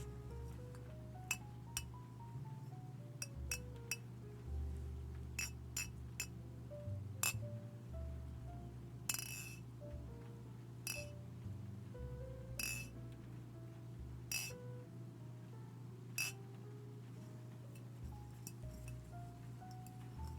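Small glass-like pieces clink now and then, sharp isolated ticks scattered over a steady low hum, spaced irregularly and fairly quiet.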